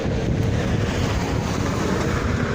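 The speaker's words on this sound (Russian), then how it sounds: "ветер ледяной." Icy wind gusts straight into the microphone on a cold outdoor walk in the rain, a loud, steady roaring rumble that fills the whole clip with no voices.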